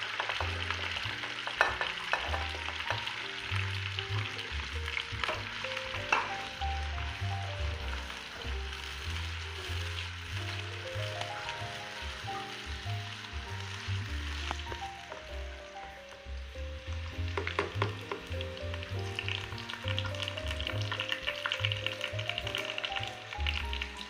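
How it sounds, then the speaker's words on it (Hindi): Two large onions fry in oil until light brown, giving a steady soft sizzle with occasional stirring scrapes and taps in a pan, continuous and fairly quiet. "इनको डाल के मैं इनको लाइट ब्राउन करूँगी"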